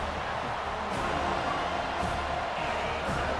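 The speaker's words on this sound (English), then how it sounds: "Here comes this home crowd as the defense tries to get off the field on third down." Home crowd roaring in a college football video game stadium as the defense lines up on third down, a dense, steady wash of cheering with no talk.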